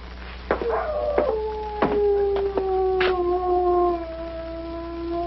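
A dog howls long and mournfully at a tent camp, with a steady drawn-out tone and a few sharp knocks in between, all heard alone at moderate distance.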